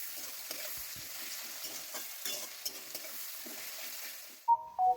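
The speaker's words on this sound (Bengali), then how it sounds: "গাজরটা ভাজছি।" Carrots fry in a wok for chicken chowmein with a soft sizzle under repeated spatula scrapes and stirring strokes, followed by a couple of short tonal beeps at the end.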